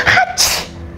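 A single sharp human sneeze, loud and close, with a quick intake followed by a bright explosive burst that fades within a second.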